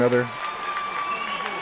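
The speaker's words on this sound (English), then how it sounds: "people clapping, people cheering," Clapping and cheering from a crowd, moderately loud and continuous after a brief voice at the start, with a steady background tone underneath.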